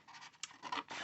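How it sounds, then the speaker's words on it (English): A blade or knife scratches and rasps through a thin stencil sheet in short, quiet strokes, several close rubbing cuts in quick succession. "So I'm just cutting it down a bit, trying to keep it straight"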